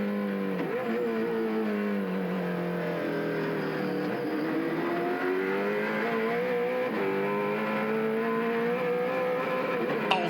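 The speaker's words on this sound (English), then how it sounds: "John Bow fighting with Ryan Hansford, whose car hits the rev limiter on the run into that corner." Touring race cars scream around the Symmons Plains circuit, engines howling at high revs with pitch rising and dipping through gear changes as a car hits the rev limiter into a corner, heard steadily at moderate distance.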